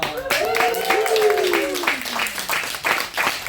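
At a theater showcase of improv performers, an audience breaks into steady clapping and applause that runs throughout, mixed with cheering voices and a rising and falling vocal whoop.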